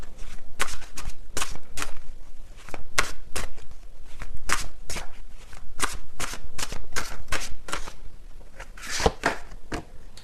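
Tarot cards being shuffled during a love reading, a steady run of crisp riffling bursts repeating close and loud across the whole stretch, with no talk over them.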